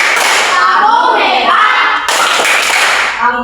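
A classroom group claps and chants together in praise of a student, a loud, dense burst of hand claps mixed with voices that runs through the whole moment.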